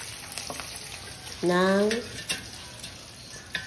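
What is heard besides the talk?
pork chips sizzling while deep frying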